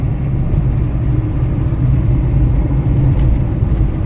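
Mitsubishi Adventure engine accelerating on a road that runs up to about 60 kph with a rising-temperature fault, a loud, steady low rumble with engine drone filling the cabin throughout, no talking.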